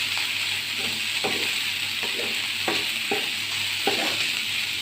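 A spoon scrapes and knocks in a pan at a steady, uneven rhythm while a chicken filling with jackfruit for rolls is stirred, over a constant, close sizzle.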